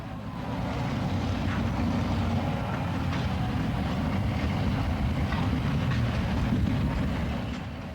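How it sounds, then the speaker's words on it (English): A first-generation EMD diesel locomotive engine in a 1950s Jeep switcher idles in yard service, a steady, deep, throbbing drone that holds at an even loudness from start to end. "The unmistakable chant of the EMD engine coming from under a Jeep's hood can still be heard."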